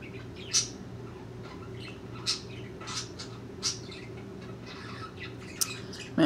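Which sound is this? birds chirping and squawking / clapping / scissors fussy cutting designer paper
birds chirping and squawking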